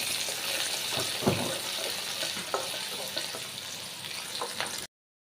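Chopped onion frying in a very hot pan, a steady hiss of sizzling oil with occasional small pops and clinks, close and continuous until it cuts off abruptly.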